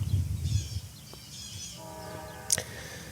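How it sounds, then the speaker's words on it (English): A train rumbles past at a distance in the first second, then its horn sounds a sustained tonal blast, followed by a short sharp clank or squeal near the end. "This is like the third train."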